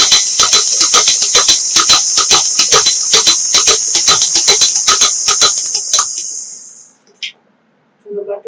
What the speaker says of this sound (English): So we just have the butter beating up to just break them down and then make it light.